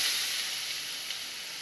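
Mango pieces hiss and sizzle loudly after being tipped into hot oil with mustard seeds, chillies and curry leaves for a sweet-sour mango thokku, a close, steady steam-like crackle with no talking.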